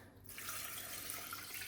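Wine poured into a cooking pot in a home kitchen, a steady soft splashing pour lasting under two seconds, faint and continuous with no voices.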